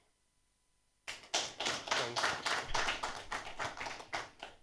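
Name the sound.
audience applause at panel discussion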